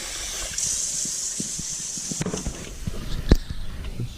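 Water poured from a container into a pot of leftover beans being reheated with molasses, a steady hissing trickle lasting a few seconds alongside faint kitchen clatter and a sharper knock near the end.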